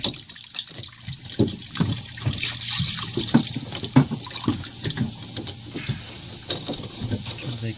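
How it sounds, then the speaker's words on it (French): Water runs steadily from a tap into a sink while a boat's Raymarine speed sensor is being cleaned, a continuous close splashing rush with brief clatters of handling throughout. "Il y a de l'eau."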